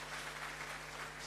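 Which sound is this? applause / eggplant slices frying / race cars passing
applause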